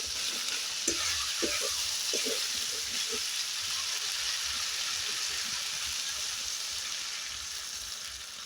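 Spice paste for koi fish curry fries in oil in a pan, a steady close sizzle with a few soft stirring scrapes near the start, running continuously without talk.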